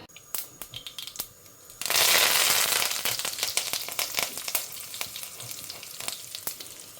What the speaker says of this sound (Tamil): எண்ணெயை வச்சுன்ட்டு தாளிக்கிறதுக்கு கடுகு வெந்தயம் போட்டிருக்கேன் பொரியட்டும்